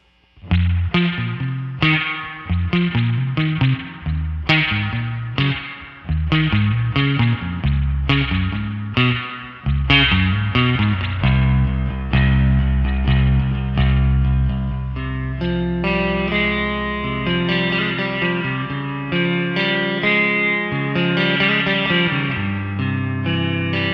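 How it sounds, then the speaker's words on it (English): An electric guitar through a spring reverb pedal emulating a Fender spring reverb tank plays a run of plucked notes, then sustained chords, each washed in a heavy, splashy reverb with a long dripping tail; no voices. "really good emulation of a Fender spring reverb tank."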